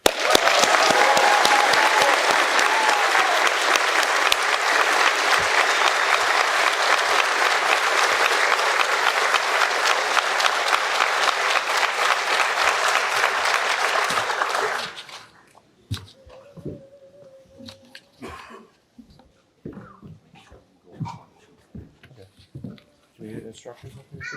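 A large crowd at the Massachusetts Fire Academy Bridgewater 23 recruit graduation gives loud, sustained applause for about fifteen seconds, then it stops abruptly, leaving scattered voices, shuffling and a dog barking and whimpering.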